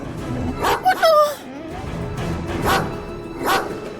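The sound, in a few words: dog barking at a cat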